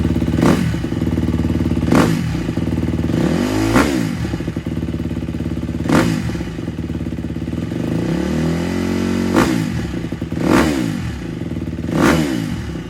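KTM 250 SX-F dirt bike running an exhaust sound test, the engine revved repeatedly in sharp blips that rise and fall over a loud steady idle, close by, with no talk.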